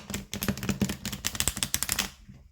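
A linen-finish My Friend Fire oracle deck is riffle-shuffled up close. The card edges make a rapid, even run of crisp clicks for about two seconds and then stop. No one talks.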